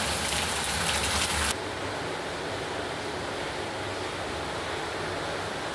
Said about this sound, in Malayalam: ഇതാ ഇവിടെ നല്ല മഴയാണ് കേട്ടോ